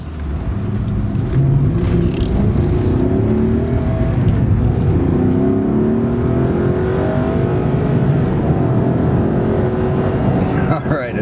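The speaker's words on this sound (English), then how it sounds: "the way this thing sounds going down the road is just sensual as hell" A 2005 Maserati Quattroporte Executive GT cruises down the road, its engine a loud, steady drone with gear changes shifting the pitch, heard from inside the car beneath continuous road and wind noise.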